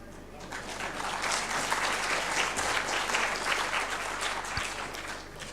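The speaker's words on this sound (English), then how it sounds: "Well-deserved applause" Sustained audience applause at a panel discussion, steady and dense throughout, loud and close, filling the room without a break.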